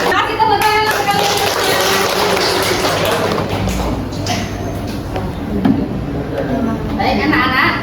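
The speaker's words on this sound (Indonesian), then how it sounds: "Kasih tepuk tangan sekali." Children in a classroom clap together under steady, loud talk and background chatter, with sharp taps and a few thumps.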